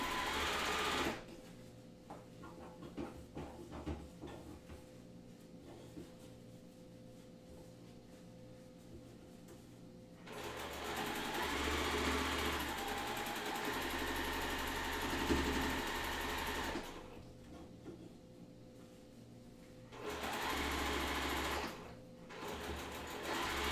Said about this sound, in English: I'm going to sew this longer row together